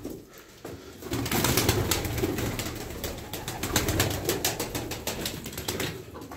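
Several pigeons at a bird sale, one with clipped wings, coo and flap in a dense, close flurry, with wing beats fluttering rapidly over low cooing throughout and no voices.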